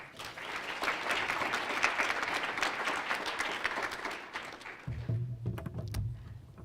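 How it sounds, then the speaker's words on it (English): An audience applauds to welcome a speaker at an event marking 400 years of African American history, with steady, dense clapping filling the room before fading into a few scattered final claps near the end. "Let's give a hand clap for Miss Angela Hook."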